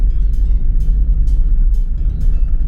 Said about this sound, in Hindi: सिर्फ रास्ते पे अभी चल रही हमारी बोलेरो नियो, हमारी प्यारी डॉल्फिन।